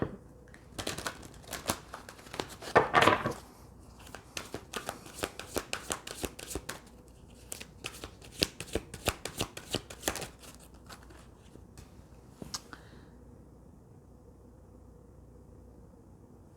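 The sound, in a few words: shuffling tarot cards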